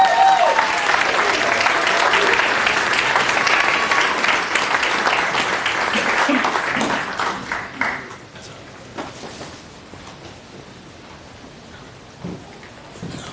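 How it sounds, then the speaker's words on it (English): Loud, dense applause from a crowd at a high school hall of fame ceremony that swells, then tapers off into scattered claps and quiet. "Let's give her a nice round of applause."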